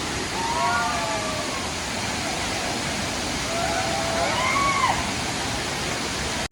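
A steady, loud rush of Anachadi waterfall fills the scene, with faint voices briefly audible beneath the roar.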